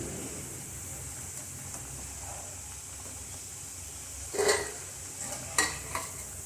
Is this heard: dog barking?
no